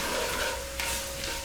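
Seasoned flour left from browning beef is stirred in a hot pan for a French-style red wine beef casserole, giving a steady close scraping sizzle throughout the brief moment.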